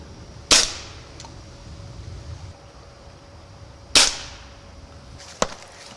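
Target shooting, one shot each: three sharp gun reports spaced a few seconds apart, the first two loud with a short ringing decay, the last quicker and slightly weaker, outdoors with no voices between.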